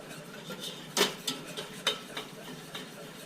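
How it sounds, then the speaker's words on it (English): Flour being whisked quickly into melted butter in a pan for a lasagna sauce, soft continuous stirring with sharp metal taps against the pan at irregular intervals, fairly quiet and close. "When you add that flour in, make sure you don't want this flour to burn, so whisk it in pretty quickly."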